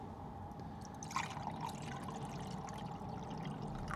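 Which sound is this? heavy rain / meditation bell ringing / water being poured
water being poured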